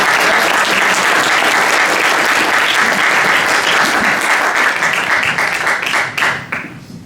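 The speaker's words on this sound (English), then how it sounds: "once again, round of applause for Tony, the outgoing chairman" Sustained audience applause at a football club evening with a chairman being honoured, dense and steady clapping for about six seconds before it fades out.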